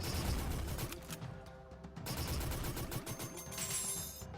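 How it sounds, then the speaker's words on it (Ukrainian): Rapid bursts of gunfire from the Metal Slug arcade shooter, dense, loud and layered over game music and effects, with no talk over them. "Так, хтось стріляє."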